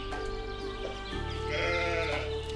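Sheep bleating in the video game Force of Nature: a couple of wavering, nasal bleats mid-clip over a busy, steady game background of hum and ambient noise, moderately close.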